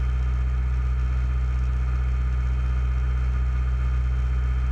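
Steady, loud engine drone inside the cabin of a Cessna 152 in cruise flight at about 1,900 RPM, an unbroken hum with no change in pitch and no voices.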